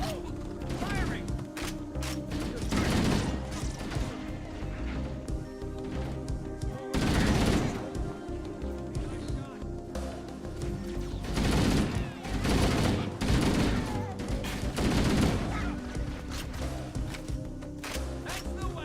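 Gunfire from the Halo video game, repeated bursts and rattling volleys rising over a dense, steady game soundtrack and effects, with someone talking briefly between shots.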